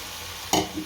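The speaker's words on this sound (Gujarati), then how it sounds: "હવે આ ડુંગળી છે એ નાખી દઈ બધી" Onions hit hot oil in a pan of cooked-down tomatoes, bursting into a sudden loud sizzle that flares for a moment and then settles into a softer frying hiss, with a brief scrape of stirring after.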